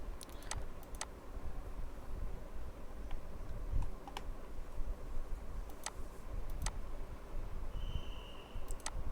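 Keys clatter on a computer keyboard as a formula goes into a spreadsheet, scattered sharp taps and a few quick bursts at close range over a low background hum, no talking.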